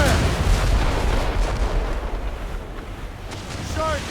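Ship cannons boom in a naval battle in the video game Assassin's Creed Rogue, heavy rumbling blasts rolling together, loud and close, with a voice shouting briefly near the end.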